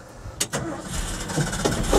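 Cold pickup truck with a manual choke being started on a freezing day, a brief cranking whir that catches into a low, rough, steady idle, fairly quiet and close.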